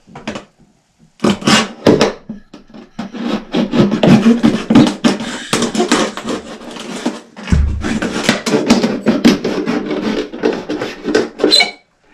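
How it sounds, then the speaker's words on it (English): A blade saws and rasps through a plastic container being cut open for winter sowing, a close, steady stream of scraping strokes with a few short pauses and a bump partway through. "So you just want to cut it here, but not all the way around."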